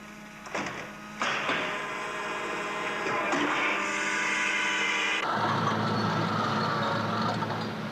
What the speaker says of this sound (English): Another grade of polypropylene can be injected into a mold to make 6 combs every 20